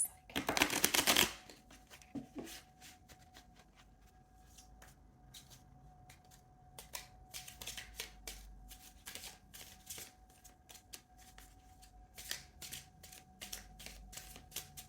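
Tarot cards being shuffled for a reading: a loud burst of riffling at the start, then a long series of softer, intermittent flicks and card slides, fairly close, with no talk.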